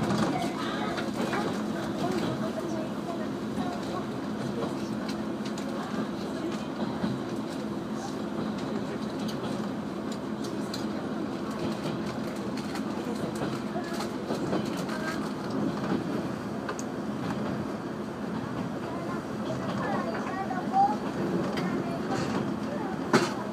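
A sightseeing train on Japan's Hisatsu Line rolls steadily along its rails toward Yatake Station with a continuous low rumble and faint rhythmic clatter, birds chirping faintly in the background.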